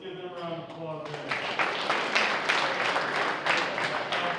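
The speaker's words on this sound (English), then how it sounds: "Let's give them a round of applause there." Applause at a high school football banquet, dense steady clapping from a crowd that swells in after a spoken introduction and continues evenly.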